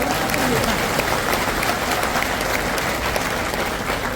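A large crowd at an outdoor public rally in Banda, India, applauds steadily and loudly for several seconds, a dense wash of clapping with crowd murmur mixed in.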